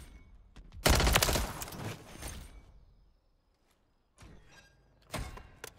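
A Striker 9 submachine gun fires in Modern Warfare III: a loud, dense burst of rapid automatic shots, then a quiet pause, then shorter bursts near the end.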